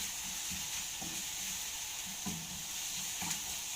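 Onion and peppers fry in a pan while a utensil stirs them, a steady close sizzle broken by a few soft scraping strokes against the pan, with no talking.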